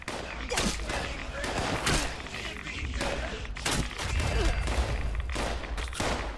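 Rapid gunfire bursts in the Fallout 76 video game, several volleys of shots with thuds and crashes in a dense, loud battle mix, a voice speaking over the action at times.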